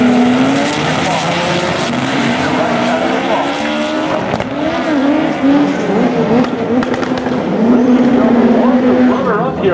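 Front-wheel-drive sport drag cars launching at a spring nationals meet at E-Town, a loud, sustained engine roar with rising revs and tire noise, close and dense, with crowd and announcer sounds beneath.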